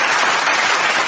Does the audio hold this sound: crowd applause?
yes